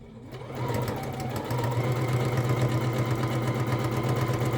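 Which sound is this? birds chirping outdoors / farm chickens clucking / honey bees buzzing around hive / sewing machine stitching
sewing machine stitching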